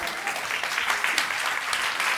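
A church congregation at a French-language service bursts into applause, a brisk crowd of claps with a few sharper bursts, steady and fairly close for a couple of seconds with no talking.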